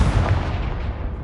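A loud, rumbling Confringo fire-blast explosion from a Harry Potter video game booms with a heavy low-end body and fades out over about a second.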